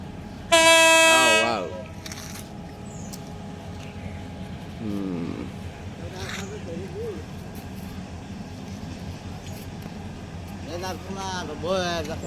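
A loud train horn blast opens, then a low rumbling continues steadily as the train approaches slowly, while people talk over it.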